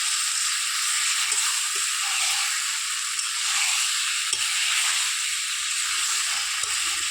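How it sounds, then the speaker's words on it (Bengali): Chicken kosha cooks in a pan with a constant bright hiss of sizzling oil. Faint scraping and stirring knocks sound underneath, close and even, with no talking. "ভালো করে মিক্সিং করে নিচ্ছি।"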